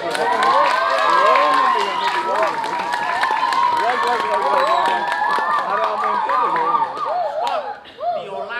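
An audience at a Balinese drama gong stage performance claps and cheers steadily throughout, with a dense wash of applause and many excited voices shouting over it, dropping off near the end.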